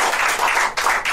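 A crowd at a rap battle claps in a brief, loud burst of applause.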